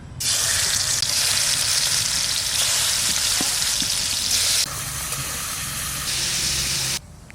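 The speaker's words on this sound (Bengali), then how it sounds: "কড়াই গরম হয়ে গেছে, মাছগুলো আমি ভেজে নিচ্ছি।" Prawns frying in hot white oil in a wok give a loud, steady, close sizzle and hiss that holds for several seconds before cutting off abruptly, with no voices.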